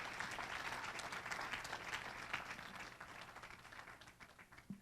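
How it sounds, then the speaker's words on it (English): An audience at an International Women's Day awards ceremony claps in sustained applause that is fairly faint and distant, thinning out toward the end. "Can you give them a round of applause?"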